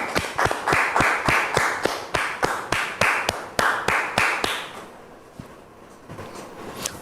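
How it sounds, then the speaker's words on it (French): Claps welcoming a guest onto a talk show set, sharp distinct slaps in a quick regular rhythm that thin out and trail off into a few scattered claps near the end. "Merci de recevoir Dame Gisèle sous vos applaudissements"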